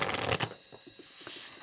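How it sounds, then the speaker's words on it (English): Oracle cards being shuffled by hand, a loud riffling burst at first, then softer scattered flicks and taps of cards close by. "we are going to shuffle a little bit"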